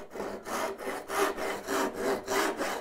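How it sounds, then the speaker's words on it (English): A tenon saw with cross-cut teeth saws along a marked line in wood for a lapped dovetail joint. It makes a steady rasping back-and-forth rhythm of about six close strokes, with no voices. "a tenon saw is a tenon saw if it has a cross cut tooth"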